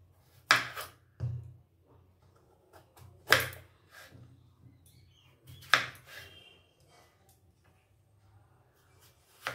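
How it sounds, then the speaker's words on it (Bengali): A knife cuts through a papaya in a home kitchen, giving a few sharp separate chops and slices spaced a couple of seconds apart, close and fairly quiet, with soft handling noises between them and no talk. "এই যে বন্ধুরা, পেঁপেটা আমি এভাবে কেটে নেব।"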